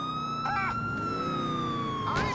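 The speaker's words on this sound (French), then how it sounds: "il entend les sirènes de police" Police sirens wail in GTA IV, a steady tone sliding slowly downward over traffic noise, with brief chirping bursts from other sirens nearby.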